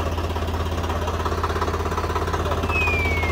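A Swraj 855 tractor engine runs steadily in Punjab, a loud, close diesel thrum with a rapid, even knocking pulse throughout and no talking.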